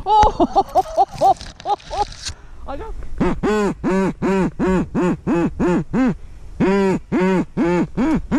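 Ducks quack repeatedly during a waterfowl hunt, first a quicker run of calls, then a long, loud, evenly spaced series of quacks close by, with a voice briefly heard early on.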